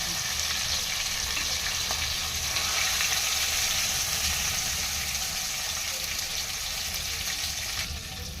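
Chicken leg pieces fry in hot oil in a pan with a steady, loud, continuous sizzle and crackle that holds for the whole stretch with no talking.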